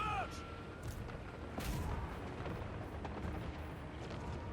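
Great cannon artillery fire in Total War Warhammer 3, with several booming blasts over a rumbling battlefield, one strong shot near the middle and further distant thuds, with game voices calling out.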